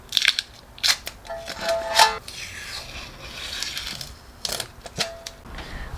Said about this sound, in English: let's go ahead and take off that masking tape